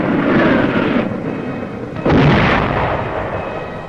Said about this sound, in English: mortar, and artillery fire.